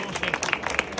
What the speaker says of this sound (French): On peut applaudir très fort Jean-Luc